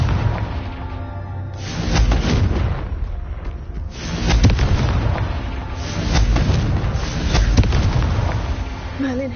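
A Confringo fire spell from a Harry Potter video game bursts in a series of deep, booming explosions, several heavy blasts rolling one after another with rumbling tails and no talking.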